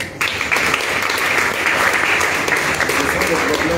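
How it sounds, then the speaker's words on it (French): A church congregation claps and cheers for Jesus, a dense, loud burst of applause that starts abruptly and holds steady throughout with voices mixed in. "Acclame pour Jésus."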